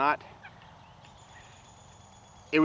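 Meat chickens in a coop holding thirty birds, with short loud gobbling calls at the start and end and a quiet low murmur of the flock in between.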